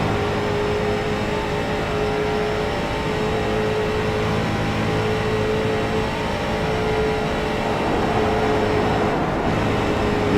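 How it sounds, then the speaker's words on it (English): In-car sound from a street stock race car in a Bump 'N Run series event at Charlotte Motor Speedway, running through the banking of turns 3 and 4, with the tires working for grip under a steady loud engine drone that continues throughout. "Hearing those tires really work to maintain grip."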